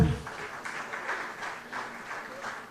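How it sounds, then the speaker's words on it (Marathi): An audience applauds in welcome at the inauguration of a BJP Goa residential training workshop on Divar Island, a short, faint burst of clapping heard from some distance. "सगळ्यांनी टाळ्या मारून स्वागत करचे।"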